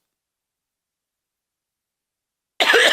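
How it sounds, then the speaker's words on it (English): After a long stretch of silence, a single close, rough cough bursts out near the end. "Let me go ahead and cough"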